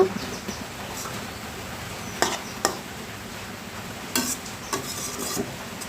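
Red amaranth greens are stirred in a pan, with soft scraping and a few sharp utensil knocks against the metal over a low, steady sizzle. No one speaks.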